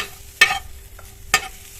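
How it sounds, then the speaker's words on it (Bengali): Chopped onions are stir-fried without oil on a griddle, with two sharp spatula scrapes about a second apart over a faint, quiet sizzle. "এগুলো বেরেস্তা করে নেবো, তবে কিন্তু তেল ছাড়া বেরেস্তা বানাবো।"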